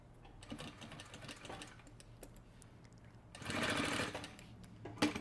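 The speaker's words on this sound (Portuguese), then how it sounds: "E aí eu vou começar a costurar" A sewing machine stitching a leather wallet, close and rhythmic: quick runs of needle ticks, a brief pause, then a louder, faster whirring burst near the end.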